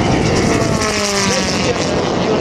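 A model aircraft engine on a Galloping Ghost racer, with a multi-cylinder setup, runs loud and close at an RC air show, a sustained buzzing drone with shifting harmonic tones.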